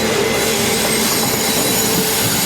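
Vivek Express running from Kanyakumari to Dibrugarh passing on the opposite line beside a moving Indian passenger train, a loud close continuous rumble and rattle of wheels on rails with metallic squeal, no talking.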